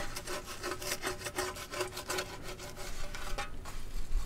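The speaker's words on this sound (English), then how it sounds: "But scrape all this old gasket material off of here." Old gasket material is scraped off a Nissan 200sx engine part with quick, rhythmic rasping strokes, close and fairly quiet, continuing steadily with no talk.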